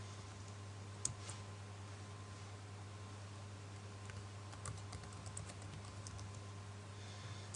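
Fast computer keyboard typing with scattered key clicks, faint and close, over a steady low electrical hum with no voices.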